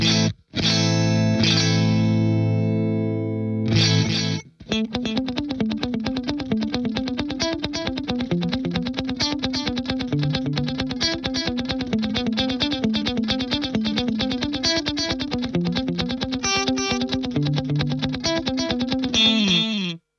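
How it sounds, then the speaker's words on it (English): Distorted electric guitar plays a busy riff through a Sony rack delay, each note repeating in trailing echoes, loud and continuous. "There you go, very, very simple delay right there."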